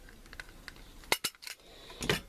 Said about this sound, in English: now you're going to go down to the bottom here and staple the edge